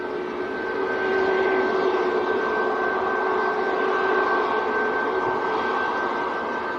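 A Ryanair airliner approaching at Manchester airport makes a steady, broad jet roar with a sustained tonal whine that swells slightly and then holds at a strong level, with no talking.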